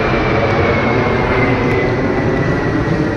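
An airplane flies overhead, making a loud, continuous roar that fills the whole few seconds with an unbroken wash of engine noise.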